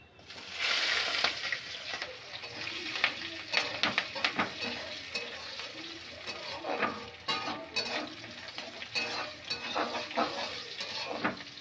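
Chopped onion, garlic and green chili are tipped into a hot pan and fry with a rising sizzle, while a utensil clatters and scrapes repeatedly against the pan in uneven bursts of stirring.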